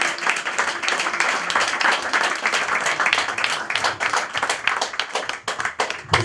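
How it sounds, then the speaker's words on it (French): Audience applause at a debate event, a dense, steady burst of many hands clapping close by that fills the whole stretch with little letup. "Il faut déjà applaudir pour Romuald."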